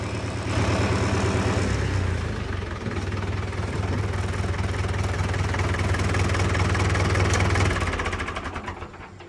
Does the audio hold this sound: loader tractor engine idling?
yes